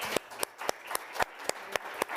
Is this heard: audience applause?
yes